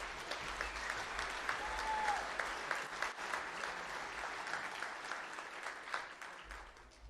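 An audience at an IMCA racing awards banquet applauds a regional champion, the clapping sustained and even at moderate volume and slowly easing toward the end.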